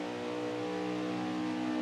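Racing trucks at Auto Club Speedway wind their engines down entering turn two, a loud, continuous, steady mechanical drone with strong harmonics and no voices over it.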